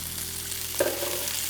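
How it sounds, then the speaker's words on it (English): Broccoli sizzling in olive oil in a hot pan on an electric range cooker, a steady crackle that jumps louder as something new hits the oil, continuing close and bright. "Can you hear it, the sizzle already?"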